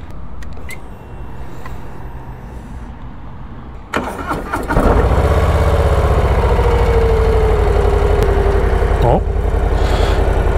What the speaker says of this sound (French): écoutons ce son, puisque là, grosse différence par rapport au Lowrider S, on a un moteur 117 avec cette moto